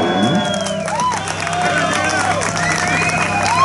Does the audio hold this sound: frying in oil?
no